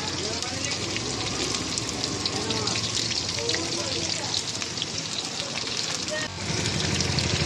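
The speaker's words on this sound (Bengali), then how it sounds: "তো গরম তেলে জিরে ও লঙ্কা ফোড়ন দিয়ে কিছুটা আলু দিয়ে দিয়েছি" Potatoes fry in hot oil tempered with cumin and chilli, a loud, steady, dense sizzle that runs close by throughout, dipping briefly near the end before it resumes.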